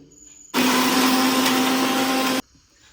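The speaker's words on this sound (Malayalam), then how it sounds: "ഇത് നന്നായിട്ടൊന്ന് അരച്ചെടുക്കാം നമുക്ക്" Mixer grinder grinding spice masala with coconut oil for a coconut-roasted pomfret fry: a loud, steady high-speed whirr starts abruptly, runs for about two seconds, then cuts off sharply.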